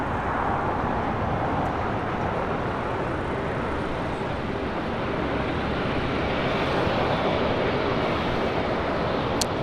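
An Asiana airliner taxiing and turning onto taxiway Lima at LAX produces a continuous broadband engine rumble and hiss, steady and moderately distant, with no voices over it.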